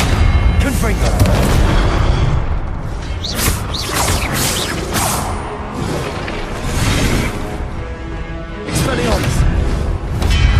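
The Confringo blasting spell in the video game Hogwarts Legacy, heard as repeated loud booming blasts with whooshing bursts over a constant din of game combat, while a voice speaks spell names throughout.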